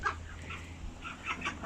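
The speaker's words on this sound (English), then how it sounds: "they quack ever so loud" Poultry in a yard call out in short, rapid bursts that carry a clucking quality, quiet and somewhat distant with a faint steady hum underneath.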